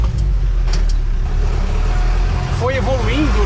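A diesel engine of an older Toyota Bandeirante pickup runs with a steady low rumble throughout, with a brief tonal whine near the end.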